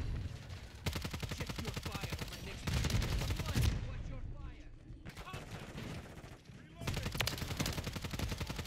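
The Superi 46 submachine gun fires in a video game in long, rapid automatic bursts with short pauses between them, loud and close, with a player talking over parts of the shooting.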